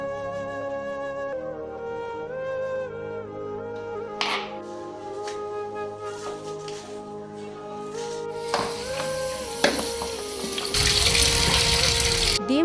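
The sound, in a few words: washing coriander leaves under running tap water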